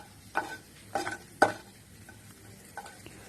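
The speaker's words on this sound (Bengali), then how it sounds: "তেলটা গরম হয়ে গেছে, বড়িগুলো দিয়ে দিচ্ছি" Lentil dumplings (bori) frying in hot oil for a Bengali bottle gourd and moong dal dish, with a low background sizzle and three or four sharp crackling bursts as pieces are moved in the pan, close and without talking.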